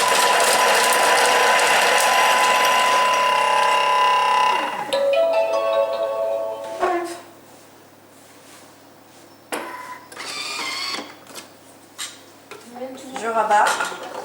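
A Thermomix blender whirs loudly at speed 5 for a few seconds while mixing risotto ingredients, then stops and gives way to clattering utensils and a spatula scraping the bowl, with a voice speaking near the end.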